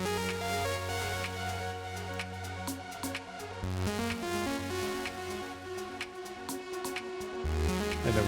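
A synth lead layered over a sustained pad from a hardware synthesizer in an electronic production, steady chords and melodic notes playing continuously and alone at even loudness.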